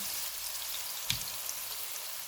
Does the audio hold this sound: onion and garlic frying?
yes